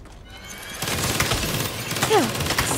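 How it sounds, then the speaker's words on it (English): Minigun fire in the Saints Row reboot video game, a dense sustained roar of rapid shots that starts abruptly and runs loud and continuous, with a high whining tone rising over it near the end. "That is a fucking minigun."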